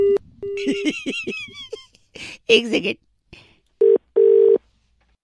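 A mobile phone on a prank call is cut off and redialled: electronic ring and dial tones with short beeps, mixed with voices chatting, then two clean tone bursts near the end before silence.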